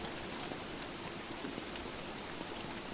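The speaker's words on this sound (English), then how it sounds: "It's lovely rain." Steady rain falling in the video game Don't Starve, an even wash of soft patter that holds constant throughout with no voices over it.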